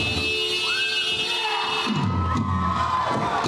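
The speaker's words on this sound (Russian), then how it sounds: "Аплодисменты зрителей еще долгое время удерживали артистов на арене цирка" Circus audience in the arena cheering and applauding, a lively crowd roar with shouts and higher children's voices rising and falling over a few seconds.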